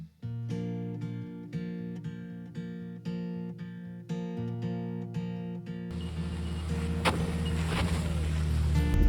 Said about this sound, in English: all this driving is very slow but very high rev, high torque